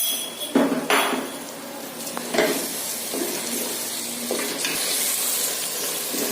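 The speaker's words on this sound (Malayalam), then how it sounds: "എല്ലാം നന്നായിട്ട് വഴറ്റി വന്നിട്ടുണ്ട്." Onions and a spoonful of garam masala sauté in a pan for mutton biryani, giving a steady close sizzle broken by several sharp scrapes and knocks of a stirring spoon against the pan, with no talking.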